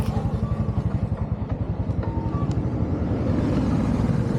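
Motorbikes pass one after another along a road in Rwanda, a steady run of close engine drones and putters with a rhythmic pulsing beat, continuous and fairly loud throughout with no talking.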